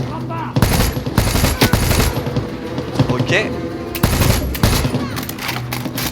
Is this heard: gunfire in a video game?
yes